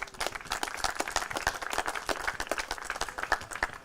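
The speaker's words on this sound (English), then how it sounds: "big round of applause for them" Applause from an audience at an outdoor town community event in East Fishkill, a dense, steady wash of many hands clapping continuously throughout, moderately loud with no talk.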